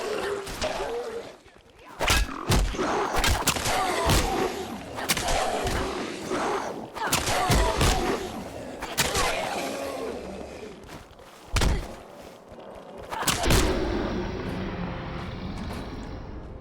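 Gunfire in Fallout 4 running the FROST mod comes as sharp, irregular shots, some in quick clusters and others spaced apart, with loud cracks between quieter stretches.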